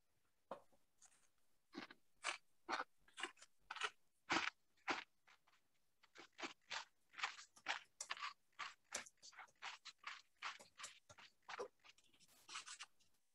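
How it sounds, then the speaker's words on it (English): Someone chewing close to an unmuted microphone on an online class call: a long run of loud, crisp crunching bites in an uneven rhythm, heard alone with no talking. "We can hear someone chewing."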